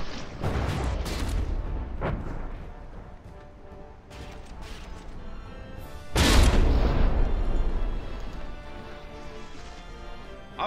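Naval gun broadsides in the From the Depths warship game, a series of heavy booming shots with one especially loud, close blast midway, over a constant rumbling battle din.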